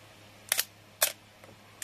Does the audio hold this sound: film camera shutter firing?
yes